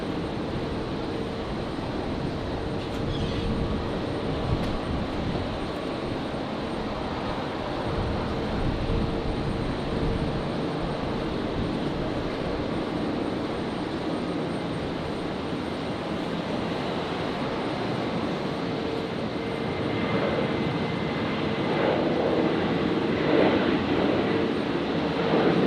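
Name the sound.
Virgin Australia Boeing 737-700 starting takeoff roll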